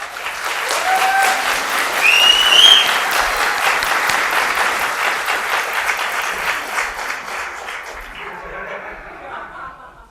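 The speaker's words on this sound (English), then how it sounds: "Let's give them one more round of applause" A crowd applauds graduates at a leadership program graduation, a full round of clapping with scattered chuckles and a few whoops or whistles near the start, tapering off toward the end.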